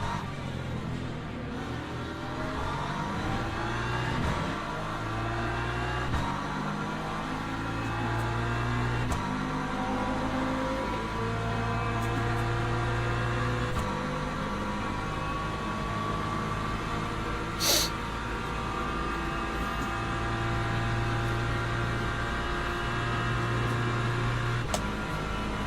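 An LMP2 race car engine in the Le Mans Ultimate video game, a sustained high-revving drone with shifting pitch that holds steady throughout and builds gradually, heard alone with no talk.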